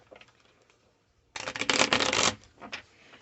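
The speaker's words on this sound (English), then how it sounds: "Let me shuffle it a couple more times." A deck of tarot cards is riffled and shuffled for about a second, a crisp papery flutter, followed by a few softer card taps.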